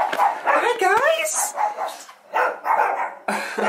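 A few dogs bark and yip nearby in short bursts, with a whiny whimper mixed in among the barks.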